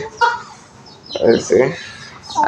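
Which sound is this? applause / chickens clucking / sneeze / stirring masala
chickens clucking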